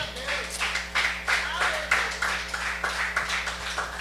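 Rhythmic congregational clapping at a church service, hands striking together in a steady beat of sharp bursts, with a faint voice underneath.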